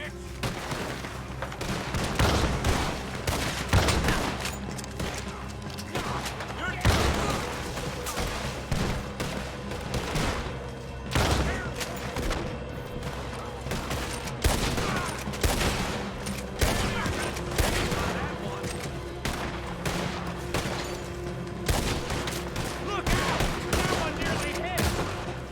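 Shotgun blasts in Red Dead Redemption 2 ring out in repeated loud bursts amid a dense gunfight of overlapping shots and echoes, with occasional speech mixed underneath.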